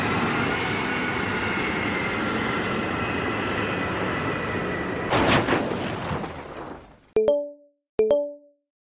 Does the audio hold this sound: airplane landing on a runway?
yes